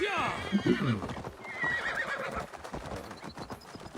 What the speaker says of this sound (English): Our horses is pretty much identical.